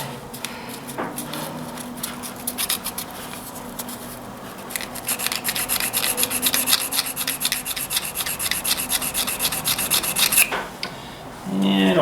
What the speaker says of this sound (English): I got some emery paper here, but it's a 600 grit.